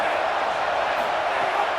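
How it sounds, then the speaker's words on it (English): A home stadium crowd in a college football video game, a steady dense roar of cheering fans with no breaks. "Now this home crowd making life difficult."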